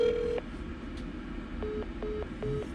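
Telephone keypad being dialed while trying to reach an airline: a tone press, then a few short evenly spaced keypad beeps over faint line hiss, quiet and close.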